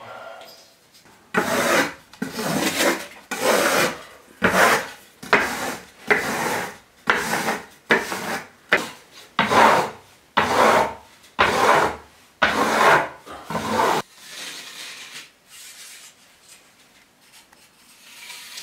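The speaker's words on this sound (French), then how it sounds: "Donc je continue ma découpe au ras du plafond." Glass fibre wall fabric on a ceiling trimmed along the edge, a series of about a dozen rhythmic, close scraping cuts, each a short rasping stroke, ending in quiet.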